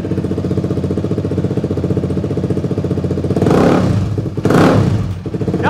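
A 250cc sport motorcycle fitted with an aftermarket exhaust idles with a steady, lumpy burble, then two loud, close throttle blips rise sharply near the end.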